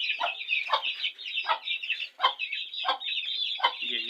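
A hen sick with a fever clucks repeatedly, close and clear, in an even run of short throaty clucks about every three quarters of a second, alone with no talk.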